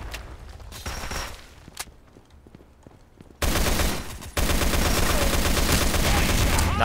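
Gunfire in the online shooter Sudden Attack 2, scattered shots at first, then loud sustained automatic fire dominating the second half.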